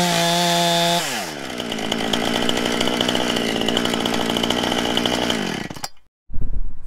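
A chainsaw with an unevenly sharpened chain idles, then revs up and bogs as it cuts through firewood on a cutting rack, loud and close, before cutting off abruptly into a few knocks.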